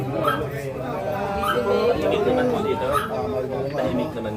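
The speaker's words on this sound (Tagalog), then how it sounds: "Kaso doon sa dulo may aso." A dog at the far end of a street in Barangay Maybunga whimpers and yips in short, repeated bursts while people talk nearby.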